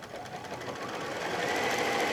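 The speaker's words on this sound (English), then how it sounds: "we're going to sew all the way down. It's a fairly long seam" A sewing machine runs continuously while stitching a long pillowcase seam, a fast steady mechanical whir that builds slightly in loudness across the short stretch.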